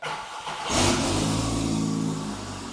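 A 5-cylinder engine swapped into a Mk2 GTI, running through a jerry-rigged exhaust, cranks and fires up, then revs up sharply and settles into a steady, fairly loud running drone that fades slightly.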